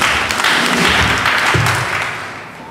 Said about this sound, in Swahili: Makofi kwa Yesu jamani.